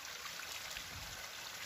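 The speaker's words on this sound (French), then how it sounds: "Une cascade, regarde." A small waterfall in a little stream splashes steadily nearby, a soft, continuous rushing of water with no voices.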